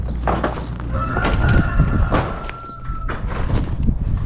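A rooster crows in the background of an outback opal-hunting site at Lightning Ridge, a drawn-out tonal call over nearby thumps, footsteps and clucking fowl, fairly close and loud.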